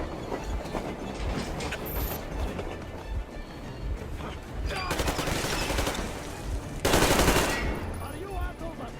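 Gunfire in the video game Metro Exodus, with dense automatic bursts and sharp shots crackling through a busy combat mix, louder surges near the middle and end, under a steady rumbling background.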